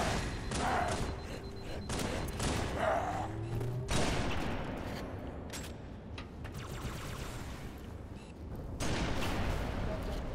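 Sniper shot and explosion in Halo 3 during a legendary-difficulty mission, heard as heavy booms and gunfire in a continuous loud battle mix, with a sharp hit near four seconds.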